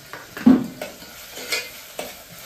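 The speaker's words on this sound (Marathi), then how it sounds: "तर आता सोनाली फोडणी देईल" Mustard seeds and spices crackle in hot oil as a tadka is tempered for chicken curry, heard as a soft sizzle with several sharp stirring and pan clinks spread across the moment, close and fairly quiet.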